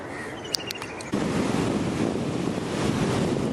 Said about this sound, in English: This is the far end of the Calangute beach in Goa, India.